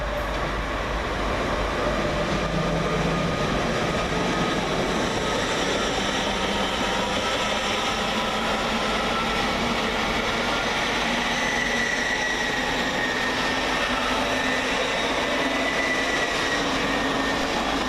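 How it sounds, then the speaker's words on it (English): LNER electric train 801209 on the Leeds to London King's Cross service pulls away from Peterborough station, a steady broadband rumble and rail noise holding loud and close throughout with faint tonal whine, no voices. "Next train out to depart is 801209, working the 1110 LNER service from Leeds to London King's Cross."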